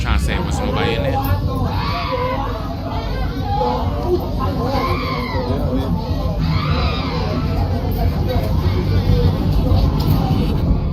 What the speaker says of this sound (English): Disturbing, desperate screams can be heard coming from her neighbor's apartment